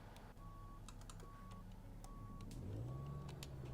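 A Freightliner Classic XL truck reverses in Euro Truck Simulator 2. Its evenly spaced reversing beeps repeat four times over a low, quiet engine hum that swells toward the end.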